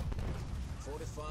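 A unit fires its weapons in the video game Halo Wars 2 as a dense, rumbling burst of gunfire and blasts, loud and continuous over a short span, with a voice talking briefly near the end.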